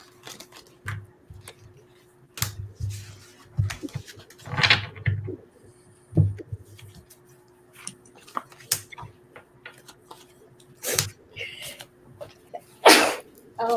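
A sharp sneeze bursts out amid scattered clicks and shuffling noises, with a few other short, loud bursts nearby.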